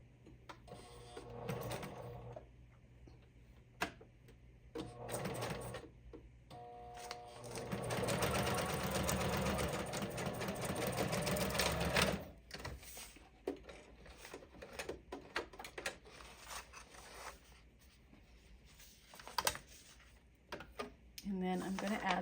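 Sewing machine running a straight stitch around the edge of a vellum page for a hand-bound junk journal, with a long continuous whirring run in the middle and shorter stop-start bursts before and after.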